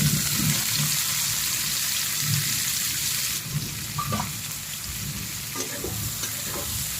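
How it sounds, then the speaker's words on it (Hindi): Onions frying in oil for a masala, a dense steady sizzle with occasional stirring scrapes and clinks of a spoon against the pan, close and continuous. "अब प्याज को हम अच्छी तरह से भून लेंगे।"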